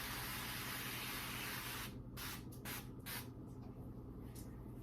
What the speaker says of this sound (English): take some cooking spray so it doesn't stick and spray it into your butter or into your